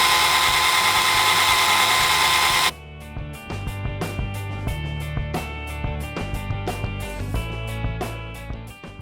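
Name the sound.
power drill drilling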